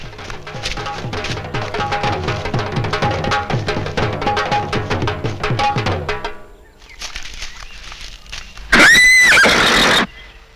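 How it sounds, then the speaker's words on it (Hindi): Horses clop steadily and close by in a busy, rhythmic stream of hoof beats. The hooves fade, and then one loud, drawn-out neigh rings out near the end. "ठीक है, ये घोड़े बांध दो।"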